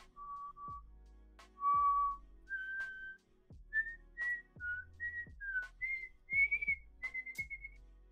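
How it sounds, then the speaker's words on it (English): A person whistles a short, halting tune of separate notes, some held and some quick, clear and fairly close, with soft low thumps underneath and no talking. "What you whistling over there, pal?"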